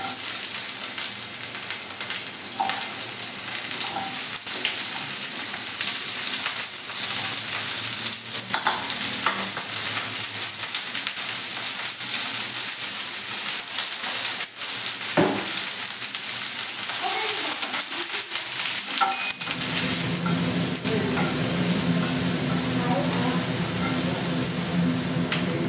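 Onions frying in a kadai as the base masala for kadai paneer, a steady broadband sizzle throughout with occasional stirring scrapes, growing louder and fuller near the end; no one speaks.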